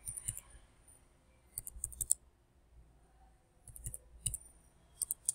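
Crisp computer mouse clicks on a website login page, arriving in short bursts of two to four quick taps separated by quiet pauses, close and fairly soft.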